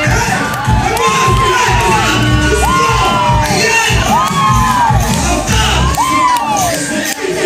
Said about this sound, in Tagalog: Palakpak na may sigawan mo!